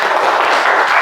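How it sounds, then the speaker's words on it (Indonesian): A class of students claps together in a school room, a brief, dense and loud burst of many hands with no pauses or talking. "Tepuk tangan semuanya"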